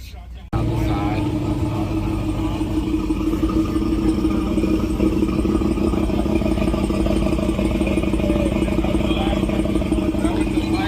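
A Volvo Penta marine engine grumbles steadily and loudly at a boat show after a brief quiet start, a continuous low rumbling idle with clattering texture, with voices talking over it.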